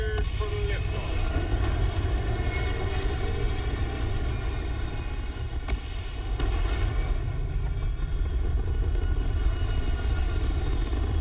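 A spaceship lifting off in the video game Starfield, a steady loud engine roar with a deep rumble that holds for the whole stretch, with a voice talking over it briefly.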